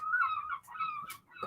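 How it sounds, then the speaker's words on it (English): Seagulls call noisily close by, loud harsh squawking cries that overlap in a continuous clamour with brief gaps, and no voices over them. "those seagulls are being noisy devils"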